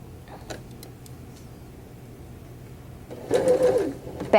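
A sewing machine stitches a seam along an outside curve in a short burst of rapid mechanical whirring near the end, after some light ticks and handling sounds from the fabric and pins.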